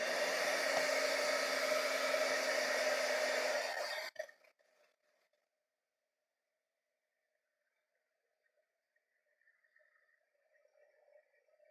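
A hair dryer blows steadily and loudly on an art journal page for about four seconds, then cuts off, leaving near silence with a faint hum later.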